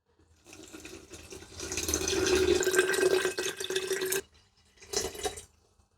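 Warm water pours steadily into a bottle for about four seconds, a rising filling gurgle, then a brief second pour after a short pause; close and fairly quiet.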